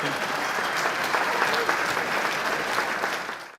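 An audience at a SIMA awards event in Singapore claps and cheers, a dense, steady wash of applause that holds loud throughout and tapers off sharply at the very end, with no voices rising above it.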